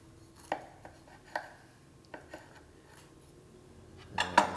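A knife works through a cooked General Tso's bratwurst on a board, giving a few soft, separate taps and cuts spaced out in a quiet room, then a sharper, louder scrape near the end.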